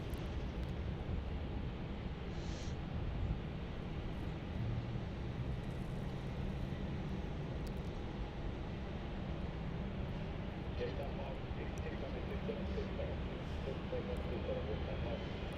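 Jet airliners taking off from runway 27 at Melbourne Airport, a faint distant low engine roar holding steady beneath people chatting nearby.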